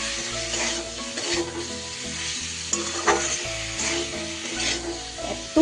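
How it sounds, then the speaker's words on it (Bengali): Vegetables with broccoli being stirred with salt in a hot pan, a loud continuous sizzle broken by repeated scraping strokes of the spoon across the pan, close and clear with no talking. "ভালো করে নুনের সাথে সবজি ভালো করে মিশিয়ে নেব"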